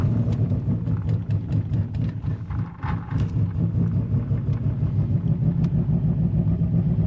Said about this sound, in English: It's kind of running really rough.